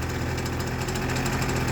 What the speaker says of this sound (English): And they will stay idling.